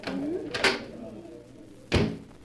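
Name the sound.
door opening onto a terrace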